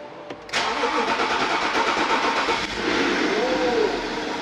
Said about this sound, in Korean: 엔진소리 굉장히 조용하네.